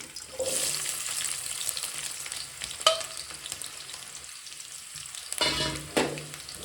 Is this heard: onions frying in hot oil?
yes